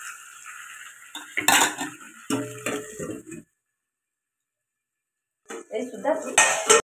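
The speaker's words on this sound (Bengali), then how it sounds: "মশলার সঙ্গে কিন্তু আমি আলুগুলো দিয়েও কিন্তু ঢাকা দিয়ে দিয়ে একটুক্ষণ নাড়বো" Potatoes with spices are stirred in a pan, giving close metallic scrapes and clinks of a utensil against the cookware in short bursts, broken by a stretch of silence.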